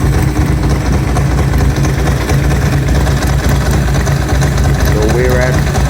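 A warm Ducati Monster 900 motorcycle engine with Keihin FCR 41 carburetors idles steadily and loudly up close, a continuous low throbbing rumble that never changes pace.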